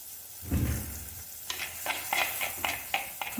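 Ground masala paste for starfruit curry hits a hot pan with a soft sizzle, followed by a series of close stirring scrapes and clicks, fairly quiet and with no talk.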